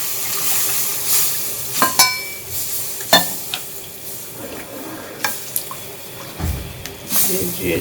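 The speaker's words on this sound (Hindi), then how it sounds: "इसको ऐसे ऐसे करके अच्छी तरह से मिक्स करेंगे" Milk mixture stirred in a pan to break up lumps, with a low continuous sizzle and sharp spoon-against-pan clinks and scrapes at irregular intervals, close by.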